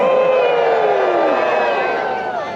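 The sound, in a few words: festival crowd cheering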